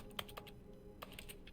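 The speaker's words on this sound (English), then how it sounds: "So that sounds like I'm typing something" Keyboard typing from The Stanley Parable: a few quiet, crisp key clicks in two short bursts, faint and close with a low background hum.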